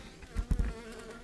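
A close, low buzzing of bees in a hive inside a house wall, swelling briefly in a few louder pulses over a steady hum.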